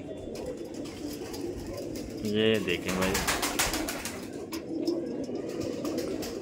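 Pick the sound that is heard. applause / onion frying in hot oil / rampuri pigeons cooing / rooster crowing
rampuri pigeons cooing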